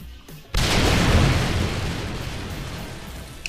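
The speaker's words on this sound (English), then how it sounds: "Love the chain explosions" Chain explosions in the video game 7 Days to Die: a brief quiet lead-in gives way to a sudden loud boom that rolls into a long, rumbling blast slowly fading out.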